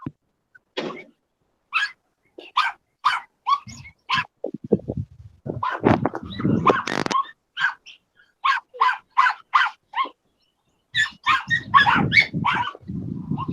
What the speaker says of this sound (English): I hate that dog. He's so annoying. He has the most annoying bark.